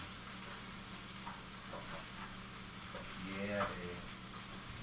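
Onions and potatoes fry in a pan for a breakfast hash with a soft steady sizzle, a brief stirring scrape near the end, and a few quiet words spoken over it.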